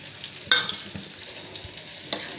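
Ivy gourd fry being stirred in a pan with chili powder, a soft sizzle under a few scraping spatula strokes, close and fairly quiet.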